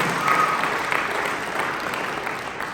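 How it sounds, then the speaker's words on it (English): An audience at a university MLK Day presentation applauds, a dense, even wash of clapping that holds steady for a few seconds before easing slightly. "Clap it up for Raina."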